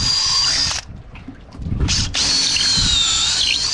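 Power drill boring through a boat's fiberglass skin, 3/4-inch plywood and 1.5 inches of Douglas fir during wooden boat restoration, a loud steady whine that briefly drops as the bit bites deeper, then resumes at full speed.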